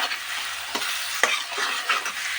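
A spoonful of ginger-garlic paste fries in hot oil for a chicken curry, giving a steady close-up sizzle. A few scraping knocks from a spoon stirring it come through, and no one speaks.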